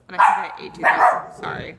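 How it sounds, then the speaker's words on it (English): A pet dog barks a few times close by, the short barks mixed in with a person talking over them. "that's my dog."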